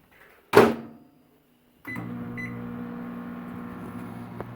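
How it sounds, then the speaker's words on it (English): A microwave oven door clunks shut, then after a pause the oven starts with a beep and settles into a steady, close electrical hum. "In case you've never seen a microwave."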